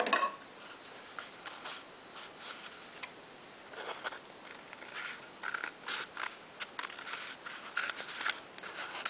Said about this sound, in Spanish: Ahora cogeremos el rollo de papel de váter y lo cortaremos por la mitad.